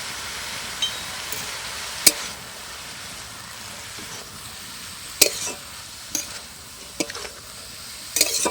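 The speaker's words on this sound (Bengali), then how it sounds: "এবার আমি আদা বাটাটা দিয়ে খুব ভালো করে নেড়ে চেড়ে নেব" Spinach curry with ginger paste cooking in a pan, with a low, constant sizzle broken by a handful of sharp clinks and scrapes from a stirring spoon, close and moderately quiet.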